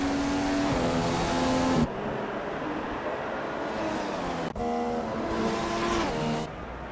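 A Formula 1 car in the F1 2015 racing game screams through high revs in the German race, with sharp gear changes, dropping and climbing pitch and a brief tire squeal, loud and close with no talk.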